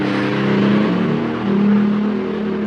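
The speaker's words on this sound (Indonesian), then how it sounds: "Tiba-tiba ada suara motor dong." Motorcycle engine passing by outdoors, a steady droning hum with a tonal whine that rises and swells slightly in the middle, fairly loud throughout.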